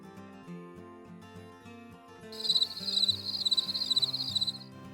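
Cricket chirps used as an awkward-silence sound effect on a video call, a rapid high trilling pulse that enters partway through over soft background music and repeats in quick bursts.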